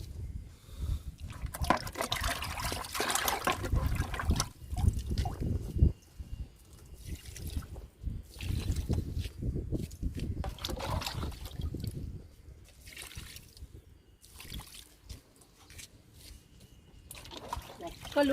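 Liquid kitchen-waste fertilizer pours and trickles onto vegetable plants such as beans, tomatoes, aubergine and green chili, a loose splashing flow that starts and stops, with a voice talking over parts of it.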